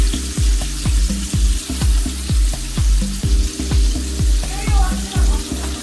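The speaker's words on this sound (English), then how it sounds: "there we got one of the steaks grilling" Thin steak sizzles and fries steadily in a hot pan, a loud continuous crackle broken by a regular series of low thumps and clatters throughout.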